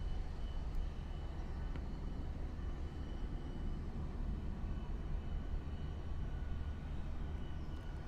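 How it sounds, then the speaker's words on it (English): A steady, broad low roar of jet engines rumbles as a Turkish Airlines Boeing 787-9 lines up on runway 9 at Miami International Airport, continuous and fairly distant. "And lining up on runway 9 now, straight after, is the Turkish Airlines Boeing 787 off to Istanbul."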